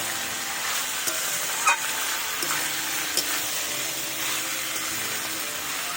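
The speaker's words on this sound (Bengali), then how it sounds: "মশলা আর কাঁঠাল একসঙ্গে আমি কষিয়ে নেব" Boiled jackfruit being fried and stirred with spices in a pan, giving a steady close sizzle with occasional scraping clinks of the spoon, and no voices.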